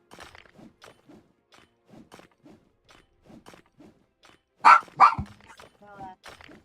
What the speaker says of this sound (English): The dogs at the neighbor's house are outside playing in their fenced-in yard, and my dog is very jealous.